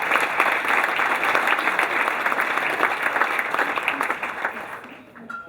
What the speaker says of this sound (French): Que vos applaudissements les remercient vivement de leur engagement